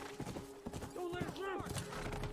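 Horse hooves clip-clop at a steady rhythm in The Last of Us, loud and close, mixed with game sound effects and someone talking over them.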